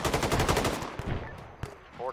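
Rapid bursts of automatic gunfire from an Arma military-simulation firefight crackle through the first second, followed by scattered single shots and a sharp crack near the end, loud and close with radio chatter faintly mixed in.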